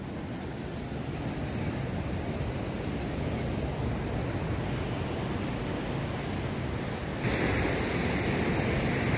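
Sea surf breaks at Azhimala beach near Thiruvananthapuram as a constant broad roar with some wind noise, growing a little louder near the end, with no clear voices.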